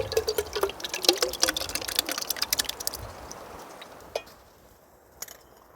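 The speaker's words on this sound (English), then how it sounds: "Water's boiling." Water boiling for chaga tea, watery bubbling and popping at close range, busy and crackly at first, then settling into a softer simmer with a few isolated pops.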